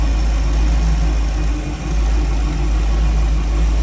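A 350 V8 idles in a 1954 Chevrolet 210 two-door sedan street rod fitted with HEI ignition, headers and a carburetor: a steady, loud, deep rumble close by, with one brief dip in level midway.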